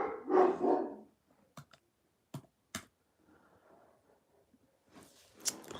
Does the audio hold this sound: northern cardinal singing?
no